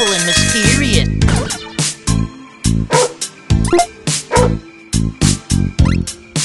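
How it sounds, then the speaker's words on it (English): Cartoonish dog barks and yips from the Teeny Titans mobile game, a rapid string of short, loud, evenly spaced bursts over bright game music. "Oh, hi, doggy."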